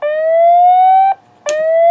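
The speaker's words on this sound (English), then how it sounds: "the siren is generating the sound" Siren from a simple transistor alarm circuit, a loud electronic tone sweeping slowly upward for about a second, cutting off briefly, then starting again, alone with no talking.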